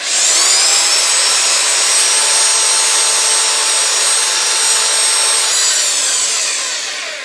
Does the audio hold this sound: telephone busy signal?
no